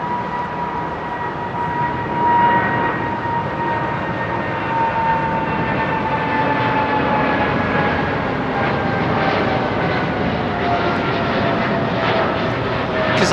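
A Vietnam Airlines jet departs Heathrow with its landing gear still down, a loud, steady jet engine roar holding close throughout and slowly shifting in pitch as the aircraft climbs away.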